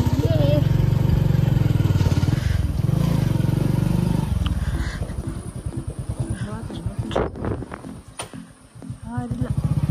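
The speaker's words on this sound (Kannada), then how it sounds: "ಸೊ ನಾವು ಬೈಕ್ ತೊಗೊಂಡು ಹೊಂಟೀವಿ." Motorcycle engine running steadily at close range, with a rumbling low drone and rhythmic throbbing as the bike heads toward the Shivapura hanging bridge near Sathodi falls; wind noise and a voice in the background.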